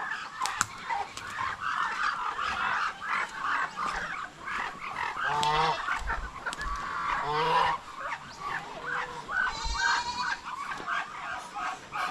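Ducks, chickens and turkeys call in a backyard flock: repeated honking quacks and squawks overlap near and far, in irregular bursts over a steady outdoor background.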